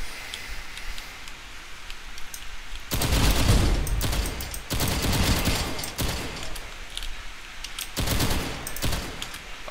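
Gunfire in the video game Right 2 Fight arrives in loud, dense bursts of rapid shots, each lasting a second or two and separated by quieter stretches of ambient game noise.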